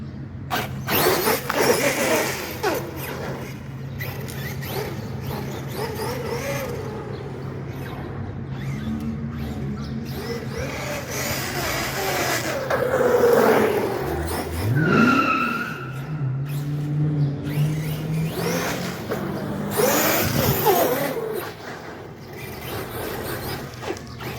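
Traxxas Sledge RC monster truck fitted with a wheelie bar, its electric motor whining and tires skidding and scrabbling over ground in a steady run with surges and squeals, fairly close and loud throughout.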